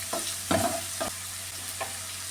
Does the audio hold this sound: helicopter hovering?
no